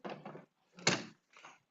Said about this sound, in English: I'm just going to shut a door